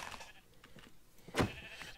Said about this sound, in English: That sheep actually scared me.